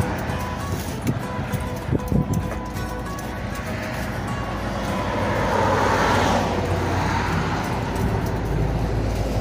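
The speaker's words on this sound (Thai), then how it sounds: "เราได้ยินเสียงรถตลอดทั้งวันเนาะ" Roadside traffic beside a small shaved-ice stall in Chian Yai, Thailand: vehicles pass at a steady stream, rising to a broad passing swell midway, with a couple of brief knocks early on.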